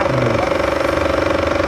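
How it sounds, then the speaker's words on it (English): An IMAX film camera runs while filming, its mechanical claws advancing each frame in a loud, fast, steady chattering buzz like a chainsaw, close and continuous. "That loud chainsaw noise you heard were the mechanical claws inside the camera"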